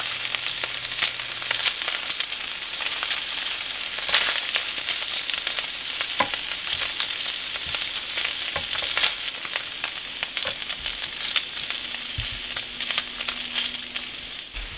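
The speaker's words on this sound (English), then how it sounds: "I'm flipping the bacon over and it will continue to cook." Bacon, cooked slowly until burnt, fries in a pan with a loud, continuous crackling sizzle and scattered sharp pops, alone with no talk.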